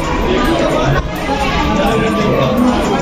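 Dense crowd chatter at the Bamleshwari temple in Dongargarh, a loud continuous babble of many overlapping voices close around, steady throughout with no single speaker standing out.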